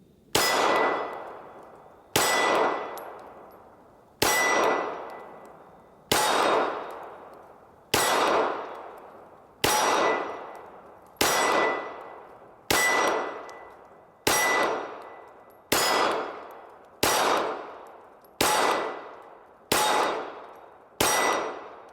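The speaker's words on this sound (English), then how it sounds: "just going to shoot for the center of that 6-inch plate right there" Springfield Hellcat .380 pistol firing at a 6-inch steel plate from about 10 yards, twelve loud, evenly spaced shots, each a sharp crack with a ringing metallic clang and decaying tail, no talk.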